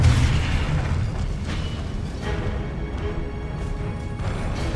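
A Confringo fire-blast spell explodes in Hogwarts Legacy, giving a loud, sustained burst of roaring, crackling blast noise with a heavy low boom, heard alone without talk.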